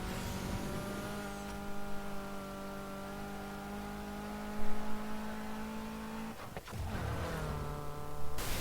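A Volvo car engine revs and drones in the racing game NFS Heat, a sustained steady hum broken once by a gear shift before climbing again.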